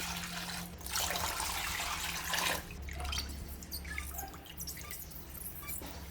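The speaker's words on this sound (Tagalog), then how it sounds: "Maglagay ng dalawang litrong tubig." Two liters of water poured into a pan while making a gulaman drink, a steady splashing and trickling stream that runs continuously with no talking.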